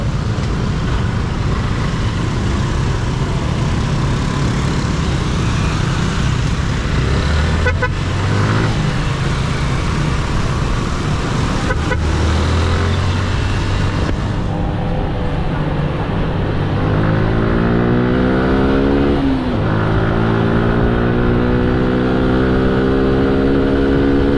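Dense city street traffic in Puerto Princesa: a steady loud wash of car and motorcycle engines, with rising engine revs and several horn toots near the middle and later on.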